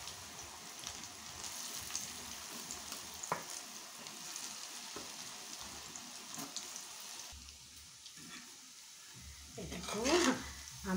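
Corn pakoras frying in hot oil give a steady sizzle under light kitchen noise, with a brief louder crackle near the end and no talk.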